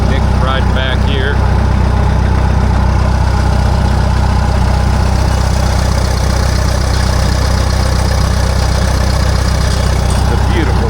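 A Minneapolis-Moline 302 diesel tractor engine idles steadily throughout, a constant low rumble that stays loud and close, with some people talking briefly near the start.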